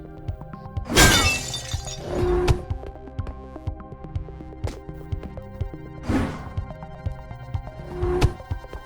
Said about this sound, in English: there is this glass window you can break with your shield